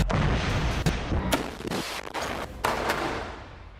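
Hamas fighters firing 114 mm Rajum short-range missiles at IDF forces near Rafah, Gaza: several sharp, loud launch blasts in quick irregular succession, each followed by a rumbling roar that fades away.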